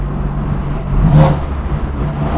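A BMW M4 with a straight pipe exhaust hums at a steady, throaty idle that swells briefly into a short rev before settling, heard close and loud.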